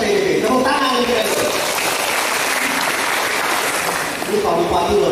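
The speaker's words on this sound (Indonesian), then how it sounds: "Tepuk tangan guys." Audience applause rises in a dense burst partway through at a government gathering in Tangerang Regency, Indonesia, with a speaking voice before it and again as the clapping fades.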